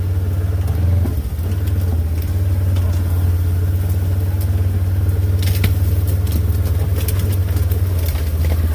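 A Ranger side-by-side UTV drives with a steady, loud low engine drone and rumble, with wind buffeting and occasional crackling throughout.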